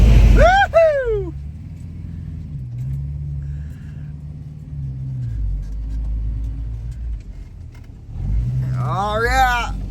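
Four-cylinder GMC truck engine revving hard while pulling a V8 vehicle out of a ditch, a low sustained rumble rising and falling under load, with whoops and voices at the start and end.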